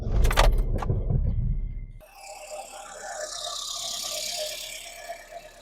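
Dacia car with its starter powered by a Parkside power-tool battery: a loud rattling, clattering burst of cranking for about two seconds, then the engine catching and settling into a steady running hum.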